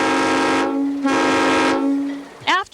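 Steam-driven rotary snowplow train on a railroad sounding its horn, two long, loud, steady blasts separated by a short gap, with a brief rising whistle-like sound at the end.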